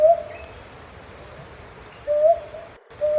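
Hume's hawk-owl, a medium-sized dark brown owl, giving short mellow calls, one near the start and two more toward the end, over a steady high insect drone and faint background hiss.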